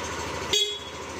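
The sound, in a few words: motorcycle horn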